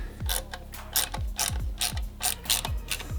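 A ratchet clicks in short, repeated strokes as bolts draw a see-through clutch cover onto a motorcycle engine, each pull a close, sharp metallic burst followed by a brief pause, roughly a dozen in a steady rhythm.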